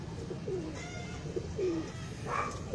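Pigeons coo softly and repeatedly from nearby on a rooftop loft: low, rolling calls in a loose rhythm over a steady background hum, with no talking.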